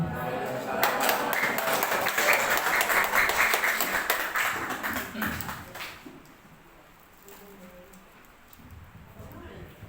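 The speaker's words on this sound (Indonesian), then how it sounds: "sekali lagi kita berikan tepuk tangan yang paling meriah untuk materi kita ini" An audience claps for a school presentation at SMP N 4 Bangkalan, a dense patter of applause for about six seconds that thins out into quieter room sound.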